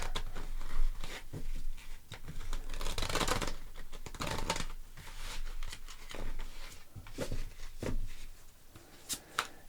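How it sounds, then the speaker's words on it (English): A deck of tarot cards is shuffled repeatedly, with dense papery riffles and flicks coming in bursts, close by and fairly loud, no talking. "Let's do another shuffle for you."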